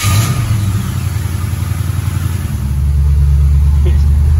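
A rewired Chevrolet Monza engine runs with a steady, loud mid-range rumble, rising slightly as it revs, with a voice speaking over it.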